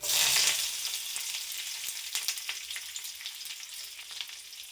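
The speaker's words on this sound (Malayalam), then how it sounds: "വെളിച്ചെണ്ണ ചൂടായിട്ട് വരുന്ന സമയത്ത് നമുക്കതിലേക്ക് നമ്മുടെ ചെറിയ ഉള്ളിയും കറിവേപ്പിലയും കൂടെ ഇട്ട് കൊടുക്കാം" Shallots and curry leaves fry in hot coconut oil for a Kerala-style fish curry, giving a steady crackling sizzle that flares loudly at first and then settles into continuous popping.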